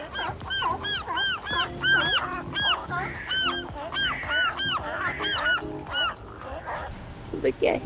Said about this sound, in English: look at all those seabirds